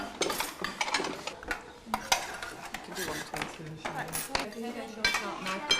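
Plates, serving spoons and cutlery clink and scrape repeatedly as food is dished out onto plates for a group, in sharp close knocks and rattles with brief pauses. Faint voices sit in the background.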